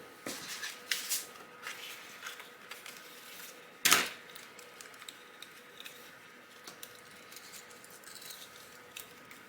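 A Cricut machine's blade cutting cardstock on a mat, a quiet mechanical whirring and ticking with scattered small clicks and one sharper clack partway through.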